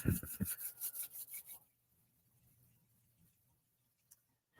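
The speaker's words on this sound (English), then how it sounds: "let's put our hands together, rub hands together" Palms rubbing briskly together in a series of about seven close, scratchy strokes over roughly a second and a half, followed by near silence.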